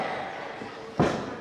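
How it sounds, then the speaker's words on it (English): A wrestler's scoop slam onto the ring, a single loud, heavy thud about two-thirds through, standing out above a steady crowd roar. "Scoop slams are one thing."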